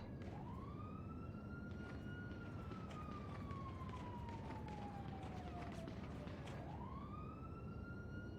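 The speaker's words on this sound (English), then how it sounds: "I hear sirens." A police siren in the video game GTA Online wails steadily, its pitch gliding slowly down and then sweeping back up, loud and continuous over a dense background rumble.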